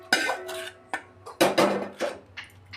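Cooled fried paneer masala ingredients are tipped into a mixer jar in a home kitchen, producing a series of close clinks and scraping knocks of a spoon against steel, irregular and alone.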